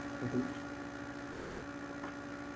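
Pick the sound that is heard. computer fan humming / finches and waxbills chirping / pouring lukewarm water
computer fan humming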